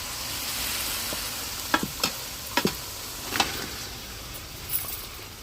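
Chicken frying in tomato paste for biryani, a low steady sizzle with scattered clinks and scrapes of a stirring spoon against the pot, close and without speech.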